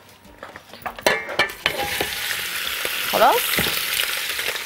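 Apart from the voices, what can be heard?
meat searing in oil in a pan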